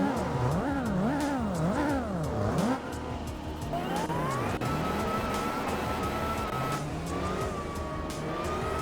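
Car engine in the racing game Gran Turismo 4, revving up and down through gears with a wavering whine, then a sustained rising drone at speed, loud and steady, with no one talking over it.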